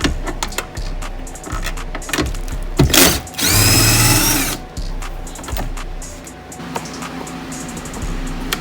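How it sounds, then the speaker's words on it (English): A power drill with an 11mm hex socket whirs in short bursts while working on a Lincoln Town Car, with one longer, louder run in the middle and clicks and handling noise between the bursts. "you're gonna need 11mm hex socket. 11mm, you see. Use a drill, best way to do it."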